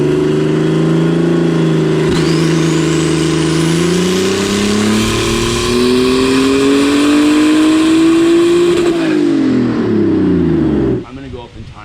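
A ZKart engine revs hard on a dyno, a loud continuous drone climbing steadily in pitch for about nine seconds before dropping off and cutting out.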